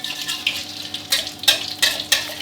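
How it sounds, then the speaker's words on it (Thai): An egg fries in hot oil in a pan for a Thai fried-egg salad, sizzling while a utensil scrapes and stirs in several short, rhythmic strokes, close up. "ทอดให้ได้ความสุกกรอบแบบที่เราชอบเลยนะครับ จะทอดไข่ขาวกรอบนิดนึงครับ"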